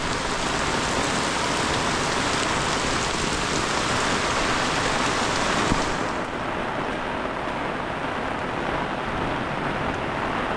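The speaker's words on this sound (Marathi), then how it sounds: "आता पाऊस बघा कसला पडतोय" Heavy monsoon downpour in rural Khed, Ratnagiri in the Konkan, a dense continuous hiss of rain pounding surfaces close by that softens slightly after the midpoint, with no talking.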